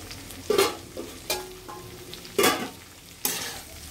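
Small new winter potatoes being sautéed and stirred in a pan for alur dom, with a few loud scraping stir strokes over a soft continuous sizzle, close by, no talking.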